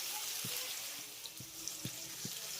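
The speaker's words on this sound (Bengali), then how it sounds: "গ্যাসের ফ্লেমটা হাইটে রেখেই কিন্তু বেগুনগুলোকে এইভাবে খুব সুন্দর করে ভেজে নিতে হবে" Eggplant slices fry in oil over a high gas flame, giving a soft, steady sizzle with a few light clicks and pops scattered through the short stretch.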